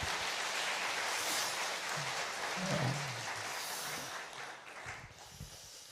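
A church congregation at a Korean women's church prayer service claps in faint, sustained applause that tapers slightly toward the end.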